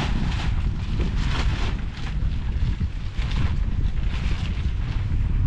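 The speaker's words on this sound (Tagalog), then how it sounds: "lumakas na yung hangin." Strong wind buffets loudly and steadily against the microphone at a boat-building site, a continuous roaring rush with slight gusting swells and no other clear sounds.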